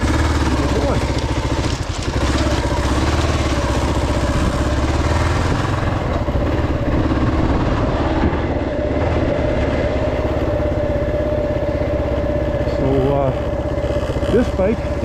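A dirt bike engine drones continuously while the rider travels a trail, loud and close with a steady rumble and a faint rattle throughout.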